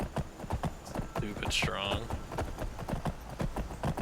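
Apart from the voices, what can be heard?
horse hooves clip-clopping in modded Skyrim video game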